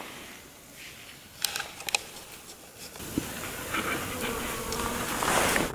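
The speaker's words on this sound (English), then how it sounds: "A bunch of bees have taken a liking to my shoes." A low, fuzzy buzzing of bees hums close by around shoes on a hiking trail in Utah, with a few sharp taps and rustles, growing slightly louder toward the end.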